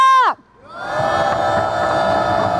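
A short shouted call with a falling voice gives way to a loud, sustained roar of a housing protest crowd shouting and cheering together in front of Bosingak in Seoul.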